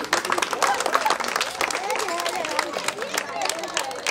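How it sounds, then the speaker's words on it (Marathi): Women at an outdoor gathering near Kumthe lake clapping in a dense, continuous patter of fast claps, with crowd chatter and voices mixed in throughout. "बाकीच्या प्रेक्षकांनी पण टाळ्या वाजवा त्यांच्यासाठी"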